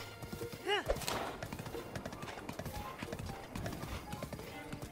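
Horse hooves clip-clop in a quick rhythmic gallop in Zelda Breath of the Wild, with a short whinny near the start and steady thumping steps continuing underneath.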